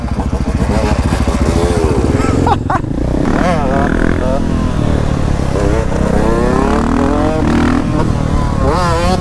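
A motorcycle engine revs loudly and close by on a ride in Austria, with rising and falling pitch sweeps, while people talk excitedly over it.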